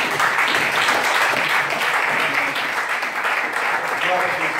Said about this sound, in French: Est-ce que nous pouvons acclamer la parole de Dieu?